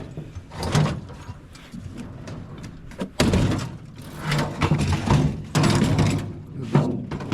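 A junked door is dragged and shifted around a junkyard, giving repeated scraping thuds and clanks in bursts, with a sharper knock about three seconds in, fairly close and with no voices.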